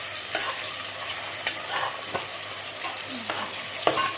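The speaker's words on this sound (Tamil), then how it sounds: "ப்ரௌன் கலராக வர அளவுக்கு வெங்காயத்தை வதக்கவும்." Onions sauté in a pan for chicken biryani until brown, a soft, fairly faint sizzle with a few sharp stirring clinks and scrapes spaced out across the clip.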